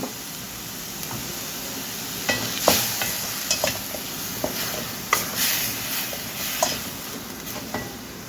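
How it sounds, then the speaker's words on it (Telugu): Onion paste and tomato puree frying in a pan for a potato, meal maker and coconut masala curry, a steady close sizzle broken by scattered stirring clicks and scrapes. "ఉల్లి ముద్ద వేగింది కదా ఇందులో ఒక రెండు స్పూన్ల టమాటా ప్యూరి వేసుకుందాము"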